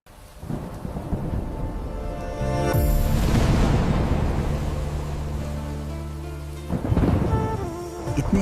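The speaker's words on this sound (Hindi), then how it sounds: "इतने समय बाद वर्षा हुई" A thunderstorm with heavy rain falling after a long dry spell, steady downpour broken by a loud, close thunder crack that rumbles on, then another sharp clap near the end; no voices.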